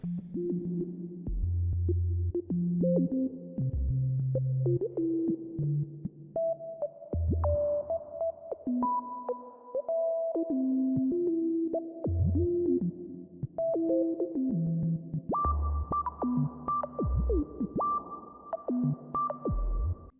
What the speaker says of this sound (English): I want to splash some reverb on this.